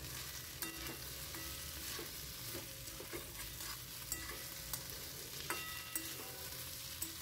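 Puti fish frying in a pan for a spicy curry, heard as a faint, steady sizzle with occasional small pops and clicks and no voices.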